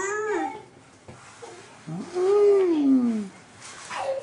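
A voice imitates an elephant, giving a long rising-and-falling trumpeting call near the mic, preceded by shorter vocal sounds and followed by a brief higher cry.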